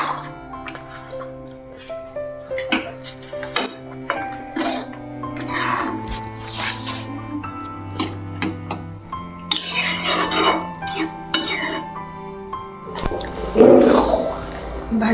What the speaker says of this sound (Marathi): चांगलं व्यवस्थित हलवून घेते भाजीला.